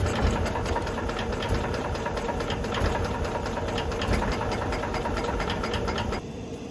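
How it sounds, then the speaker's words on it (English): A cold Winnebago engine cranks steadily on its starter in a chilly shop, a loud, fast, even rhythmic churning held continuously for several seconds before easing slightly at the end. "I'm holding the starter for 30 seconds."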